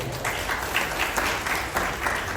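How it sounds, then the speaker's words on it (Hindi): Audience members at an Ayurveda health talk applaud in a steady, moderately loud wash of clapping that continues evenly without pause. "अच्छे से तालियां बजा दो"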